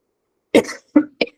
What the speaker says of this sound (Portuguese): Nossa, me deu uma tosse.